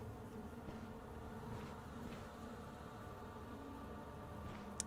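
Bees buzzing in the dark fantasy RPG Stoneshard, a steady low insect drone that holds continuously under faint background game ambience.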